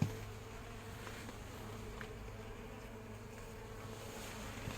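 Honeybees spill out of a hive on a warm winter day, a faint, steady collective hum at a distance with no voices.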